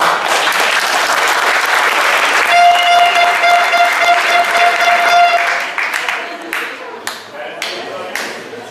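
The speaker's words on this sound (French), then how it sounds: "je pense que ça peut s'applaudir" Applause for a newly founded association, the FCPJ, at a Paris event: dense, loud clapping from a crowd with a steady ringing tone through the middle, thinning into scattered individual claps toward the end.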